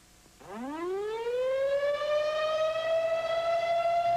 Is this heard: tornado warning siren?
yes